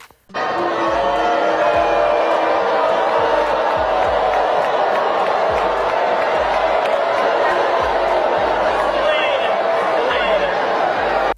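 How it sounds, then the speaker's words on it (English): A large crowd at a Kamala Harris political rally with Beyoncé roars with sustained booing, a loud, continuous wall of massed voices that holds steady from start to finish. "So the crowd was booing that MAGA person."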